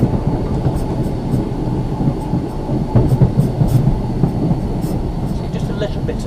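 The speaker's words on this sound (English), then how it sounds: "So we'll be applying air brake shortly to slow us down for the points." A tram coasts along the rails with a steady low rumble and faint clickety-clack, and a brief hiss suggests the air brake being applied; the sound stays continuous and close throughout, with no voices.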